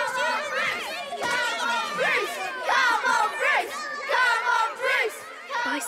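A dramatized crowd of schoolchildren cheering together at a school, with overlapping young voices shouting and whooping in rising waves, loud and close throughout.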